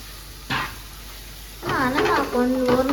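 Goat brain being stirred and fried in a pan, with a soft sizzle and scraping stirs; a voice speaks briefly over the cooking partway through.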